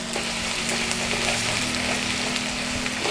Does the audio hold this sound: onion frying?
yes